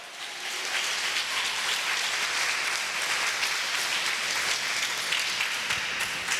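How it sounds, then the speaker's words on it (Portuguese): A church congregation bursts into loud, sustained applause, dense continuous clapping from many hands filling the room at full strength throughout, with no voices standing out. "Forte esse aplauso"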